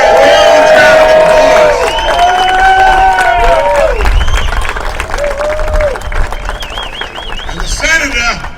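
A rally crowd at the New York State Capitol applauds and cheers for Senator Jessica Ramos, loud clapping mixed with whoops and shouted voices, tapering slightly toward the end.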